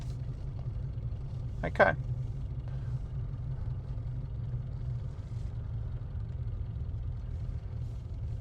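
A Mitsubishi Pajero with the parking brake applied idles and creeps forward as it slowly accelerates, a steady low engine rumble close by, with a brief spoken word partway through.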